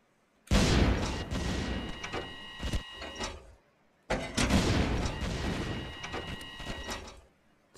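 Two long bursts of large-caliber gunfire in the Stormworks game, each a dense, loud barrage of shells with metallic ringing, separated by a short pause.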